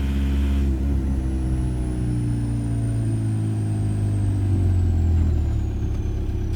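A car with a swapped-in TDI diesel engine pulls flat out in second gear, a steady, loud low drone with a rising whine as it builds speed, heard from inside the car.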